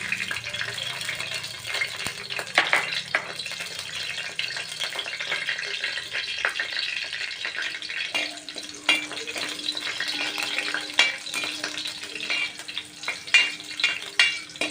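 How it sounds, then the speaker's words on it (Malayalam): Two cut green chillies frying in hot oil for veg pulao, a steady close sizzle and crackle throughout with occasional stirring clicks and no talk. "ഇതിൽ എണ്ണ ചൂടായതിനു ശേഷം രണ്ട് പച്ചമുളക് കട്ട് ചെയ്തതാണ്"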